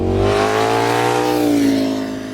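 A Cobra sports car roars past close by on a street during car spotting, its loud engine note sweeping in pitch as it passes, then fading slightly at the end.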